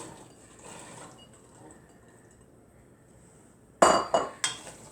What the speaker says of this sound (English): I'm just going to put my green beans in